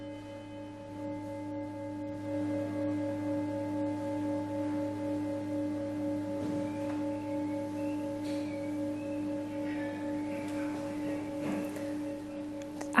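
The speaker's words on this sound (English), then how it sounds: "The singing bowls work by sound, and I'm going to play 2, 3 for you." Singing bowls ring in a sustained layered drone of several steady pure tones that hum on and on, with small taps and table noise, played close up and fairly quietly.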